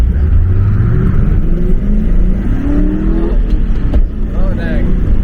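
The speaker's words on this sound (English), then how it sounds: "Have this little drag race." Engines rev and accelerate in a drag race between a Mustang and a Corvette, loud and close with rising pitch, while people talk and cheer over the noise.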